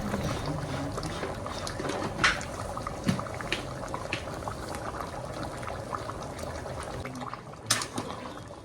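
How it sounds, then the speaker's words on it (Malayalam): A pot of chicken curry bubbling at a steady boil, with continuous gurgling and popping and a few sharper splutters, close by with no talking. "ചിക്കൻ ഇപ്പോൾ നന്നായി തിളച്ചിട്ടൊക്കെ വന്നിട്ടുണ്ട്."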